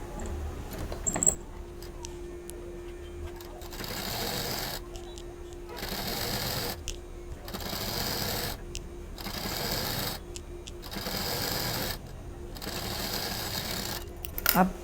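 A sewing machine stitches fabric for a small homemade mini handbag, running in repeated rhythmic bursts of about a second each with short pauses between them, close and steady, with a voice talking over parts of it.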